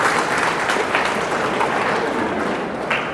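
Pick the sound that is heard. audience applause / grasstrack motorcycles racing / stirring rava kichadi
audience applause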